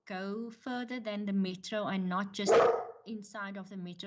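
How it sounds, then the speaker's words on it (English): A dog barks nearby during an online committee meeting, short sharp barks mixed under and between a person speaking close to the microphone. "Sorry for my dog barking now."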